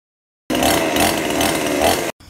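A 20-inch chainsaw runs steadily beside a very thick tropical forest tree, a loud close buzzing drone lasting under two seconds that cuts off abruptly.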